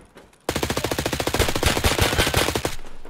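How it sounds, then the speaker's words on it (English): A long continuous burst of automatic fire from an MPX submachine gun in Escape from Tarkov, with rapid evenly spaced shots for over two seconds, loud and close. "I sprayed at him with MPX."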